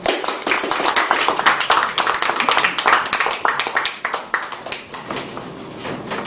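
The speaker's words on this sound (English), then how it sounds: "Let's give a round of applause for Mike" Toastmasters club audience in Metro Manila applauds a speaker, a dense, steady wash of many hands clapping close and loud for about six seconds, tapering slightly near the end.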